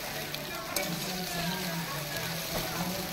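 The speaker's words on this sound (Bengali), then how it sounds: "এখন আমি একসঙ্গে ভালো করে মশলাটা কষিয়ে নেব।" Spices sautéing in oil for gondhoraj lemon chili chicken, a dense, steady sizzle close up, with faint scraping of a spoon stirring the pan.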